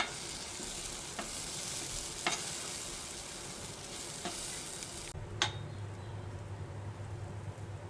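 Mango pulp being stirred into suji halwa in a hot pan, a steady hissing sizzle with a few spoon scrapes that thins out toward the end as a low hum comes in, no voices.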